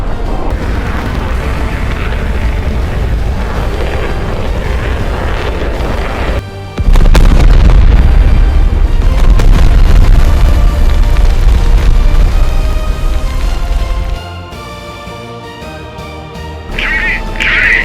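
Naval guns fire in a battle, heavy booms bursting out over a busy, loud mix, with a sharp onset partway through and dense rumbling after, shouted voices scattered over it.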